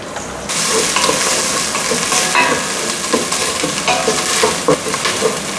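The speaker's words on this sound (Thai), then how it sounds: "ผัดให้มันมีกลิ่นหอมนะครับ นี่ผมจะเติมน้ำมันอีกนิดนึง" Ingredients pounded together stir-fry in hot oil for Thai braised pork leg, a loud close sizzle that starts abruptly, with repeated scraping and clattering of a spatula through the hiss.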